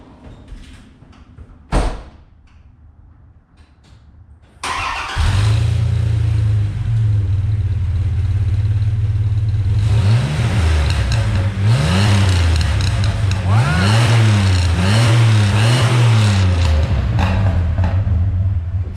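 A pickup truck engine cranks and catches after a door clunk, then idles loudly and rises through several repeated revs, close and steady with no talk over it.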